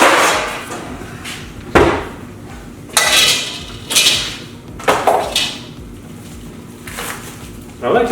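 A metal pizza pan is pulled out among other kitchen pans, giving several sharp clanks and scrapes spaced a second or so apart, close by in a quiet room.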